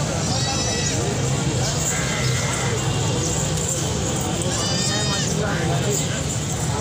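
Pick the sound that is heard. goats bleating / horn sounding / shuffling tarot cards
goats bleating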